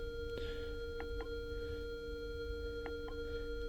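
A Minelab Equinox 900 metal detector in goldfield mode holds a steady single tone, with several faint, brief blips over a low background hum and no talk.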